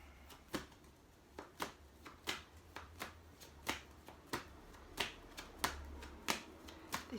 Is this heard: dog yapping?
no